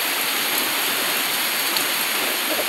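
Heavy rain pours down in a steady, dense hiss, continuous and loud with no breaks, close by and without any voices.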